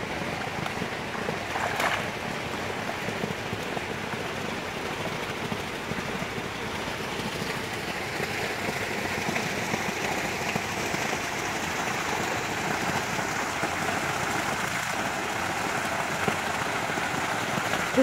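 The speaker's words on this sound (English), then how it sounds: "it's the first time you've seen the waterfalls on" Backyard pool waterfall running, a steady broadband rush of falling water continuing evenly throughout with no change in loudness, no voices.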